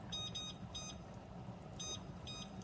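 A kitchen timer gives short electronic beeps in spaced pairs as it is set while Jamaican brown stew chicken cooks. The beeps are faint against a steady low background hum.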